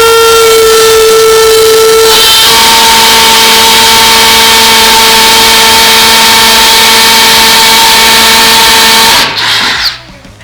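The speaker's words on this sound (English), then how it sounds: "make sure you drill it in far enough" A power drill whines steadily and loudly as it bores into brick beside a window, its pitch shifting once partway through before the motor winds down and stops near the end.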